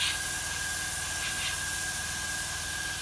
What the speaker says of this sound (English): Notice I never keep the airbrush still when I'm spraying, just constantly moving.